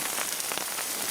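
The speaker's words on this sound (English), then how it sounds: "it's Saturday night and we're camping, and oh my goodness, oh, and it's raining." Rain falls steadily on a campsite at night, a dense close patter of drops hitting surfaces with no voices.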